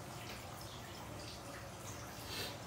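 Steady, soft trickle of water from a cascade filter pouring into a turtle tank, a faint continuous wash with no breaks.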